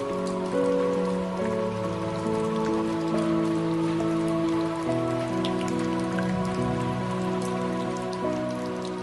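Steady rain falls throughout as a continuous hiss of drops, heard alongside soft, sustained musical tones, with no talking.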